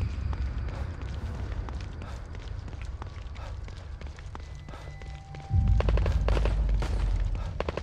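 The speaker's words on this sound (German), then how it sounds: "da fallen Schüsse" Gunfire in The Evil Within 2, a string of sharp cracks and bangs sounding over a low rumbling game ambience with scuffing movement, loud and close throughout.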